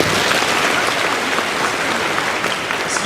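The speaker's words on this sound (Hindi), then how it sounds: "ताली बजाइए।" Audience applause from a crowd at a public gathering fills the clip as a dense, steady patter of clapping, loud and continuous throughout with no break.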